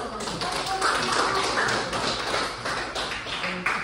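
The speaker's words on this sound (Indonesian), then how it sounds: "Tepuk tangan dulu." A classroom of students clapping their hands together in a dense, steady patter of overlapping claps lasting a few seconds, fairly close and without pauses.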